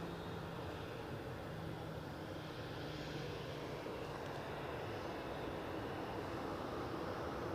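An airliner lined up at Edinburgh Airport for a departure to Malaga gives off a steady, distant jet roar that stays even across the whole stretch, with no talking.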